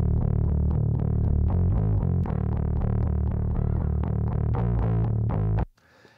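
Heavily distorted electric guitars chug a steady rhythmic riff in a rock mix, loud and dense, before cutting off abruptly near the end.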